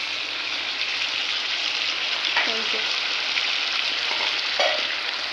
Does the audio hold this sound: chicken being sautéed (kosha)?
yes